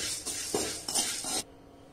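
Lentils being dry-roasted in a pan for idly podi are stirred in a few quick scraping, rattling strokes, close and fairly soft, before the sound abruptly stops.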